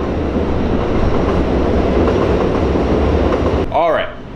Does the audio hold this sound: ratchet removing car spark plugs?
no